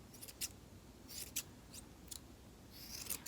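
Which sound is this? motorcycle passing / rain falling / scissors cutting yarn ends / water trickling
scissors cutting yarn ends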